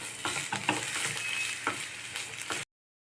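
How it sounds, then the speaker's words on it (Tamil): Sliced snake gourd sautéed in a pan for dosa batter, a close, continuous sizzle broken by repeated scraping stirs, ending abruptly in silence. "புடலங்காய் நல்லா வதங்கியாச்சு"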